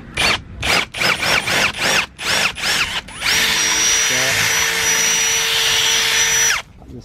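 A power drill bores a small hole through an aluminium awning pole, first in a run of short whirring bursts, then one sustained high whine lasting several seconds before stopping, close and loud.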